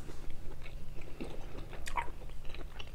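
Someone chews a chewy piece of palomilla steak close to the mic, with uneven wet bites and mastication repeating over a few seconds and a low background hum, no talking.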